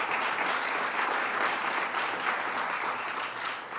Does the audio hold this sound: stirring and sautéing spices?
no